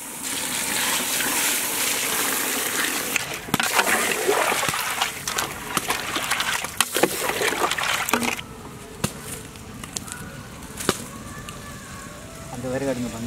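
Water is poured while a goat head curry is cooked outdoors in a village, giving a steady, loud splashing rush that thins out toward the end, with buzzing and other background noise around it.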